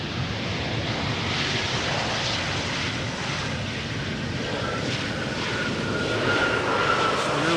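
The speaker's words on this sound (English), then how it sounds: "Embraer 190." Embraer 190 jet arriving at Amsterdam Schiphol's Polderbaan runway, a steady broadband engine roar sustained throughout at moderate distance, with a faint high whine rising near the end and no talk.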